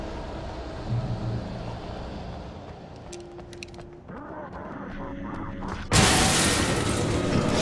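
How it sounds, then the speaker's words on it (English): A red explosive barrel in Alan Wake bursts with a sudden loud blast, followed by a sustained bright roar and rumble, after quieter ambient game noise and scattered creaks. "Those red barrels you can shoot and, they explode in a flash of light and kill them."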